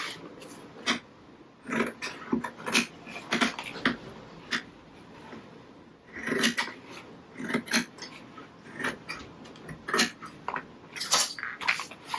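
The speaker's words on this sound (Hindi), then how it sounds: "ये हम पानी ले रहे हैं कुछ आ रहे हैं कपड़े के अंदर, इसको मुलायम करने के लिए लेदर को।" Leather being worked with water and cloth to soften it for bookbinding, heard as clustered clinks, taps and wet handling noises in irregular bursts, close up, with no speech.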